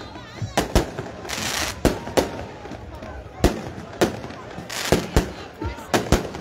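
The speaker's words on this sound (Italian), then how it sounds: "Oh, abbiamo anche i fuochi d'artificio" Fireworks at a town square celebration in Piazza Sant'Antonio, Termoli, with sharp bangs and crackling bursts going off irregularly over a background of crowd noise, with someone talking over them.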